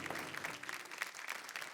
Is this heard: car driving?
no